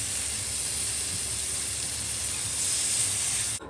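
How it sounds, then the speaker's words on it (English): Steak sears in a hot pan for pepper steak, making a loud continuous sizzling hiss that holds steady before cutting off abruptly at the end. "We just want a crust on the bottom of our steak or all around our meat."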